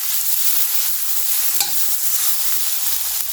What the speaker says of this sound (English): It's already cooked in the microwave, so just sauteing it for an extra taste.